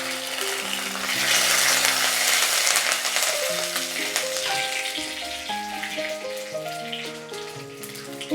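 Curry leaves and two dried red chillies hit hot oil with mustard seeds for a tomato curd curry, giving a loud, steady sizzle that fades after a few seconds beneath background music.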